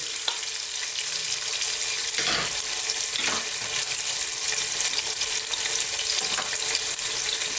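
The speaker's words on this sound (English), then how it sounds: "And there goes our garlic, minced garlic." Minced garlic sizzles steadily in a hot pan, a continuous bright frying hiss with a few louder stirring swells, close and alone without any voices.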